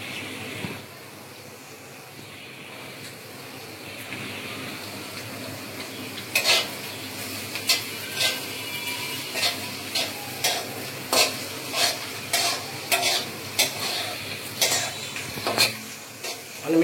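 A pumpkin mixture is stirred while it fries in a pan on a village stove. A steady sizzle runs underneath, and from about six seconds in, repeated sharp scrapes and clinks of a utensil against the pan come in irregular bursts.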